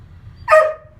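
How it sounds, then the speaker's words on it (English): A single close, loud dog bark, short and sharp, in an otherwise quiet indoor room with a low background hum. "Oh, my dog is barking."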